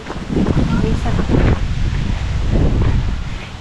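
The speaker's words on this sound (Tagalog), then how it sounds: "Itong lagapak na hangin na to" Strong wind blows outdoors against the microphone, a loud continuous gusty roar and buffeting that rises and falls across the whole span, with no clear speech.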